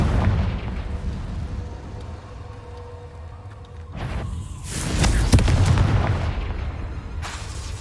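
A Confringo spell explodes in Hogwarts Legacy, a loud fiery blast bursting out over a low rumbling backdrop, then a second burst following close behind.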